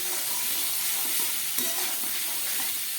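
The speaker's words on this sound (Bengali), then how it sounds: "এবার আমি দিয়ে দিচ্ছি এই সিদ্ধ করে রাখা এঁচোড়টা।" Boiled jackfruit fries in a pan and is stirred, a steady close sizzle lasting throughout with faint scraping of the stirring, no voices.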